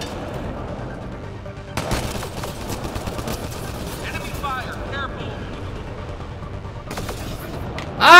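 Gunfire crackles through a Mass Effect Andromeda multiplayer battle against raiders at Firebase Derelict, with scattered bursts and a few sharper shots over a constant combat din, ending in a sudden loud blast.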